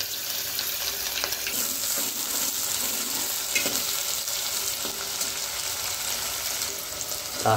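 Chopped green chili, garlic and curry leaves crackle and sizzle in hot tempering oil for a dal bati dish, a busy close hiss broken by scattered stirring scrapes and small pops, with no voices.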